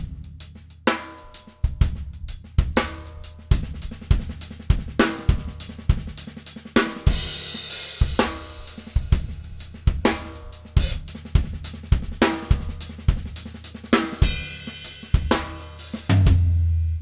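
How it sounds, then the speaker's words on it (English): Drum kit playing a fast repeating lick spread across hi-hat, snare drum and kick, with punchy low kicks and crisp snare hits in steady cycling groups, loud and close, continuing for several bars without talk. "he just plays it between the hi-hat, snare drum, and kick"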